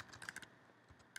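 Quick bursts of keystrokes on a computer keyboard while a folder name is typed, a handful of close, crisp clicks clustered early and again at the end, with no talk.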